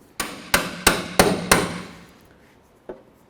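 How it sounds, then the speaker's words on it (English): Five sharp metallic hammer strikes on a punch, evenly spaced and close, seating a replacement headlight on a 2002-2009 GMC Envoy, followed after a pause by one lighter tap. "I'll try to take something simple as a punch, maybe a hammer, and just try to give it a couple loving bonks"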